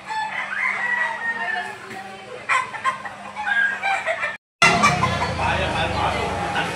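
Roosters crow repeatedly at the Lipa livestock auction market in Batangas, loud and close among crowd noise, with a brief dropout midway before the crowing and chatter resume.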